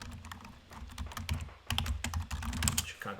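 A computer keyboard clacks out a search phrase in fast, close keystrokes, with a short pause midway before a denser burst of typing, and no voices.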